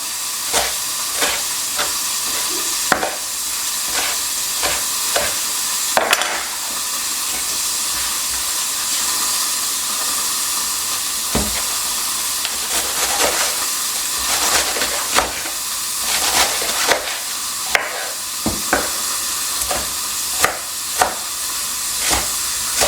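Meat sizzles steadily in a hot pan for burrito bowl toppings, a continuous close hiss broken by scattered sharper crackles and pops throughout.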